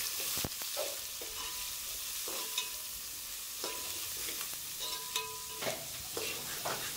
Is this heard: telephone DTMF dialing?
no